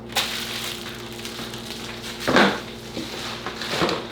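Ramen noodles with seasoning sizzle in a pan, a soft steady fry broken by a couple of louder scraping stirs and clinks against the pan.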